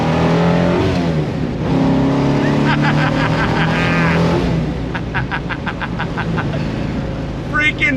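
A 1970 Dodge Challenger R/T 440 Six Pack accelerates hard in second gear, its V8 roaring loud and close from inside the cabin and rising in pitch.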